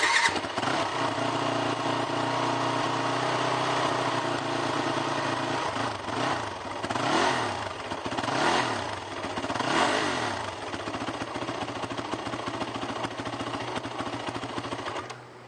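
A 2006 Yamaha WR450F four-stroke dirt bike starts on its electric starter and settles into a steady, close idle, its engine droning loud and continuous with a few slight swells in pitch.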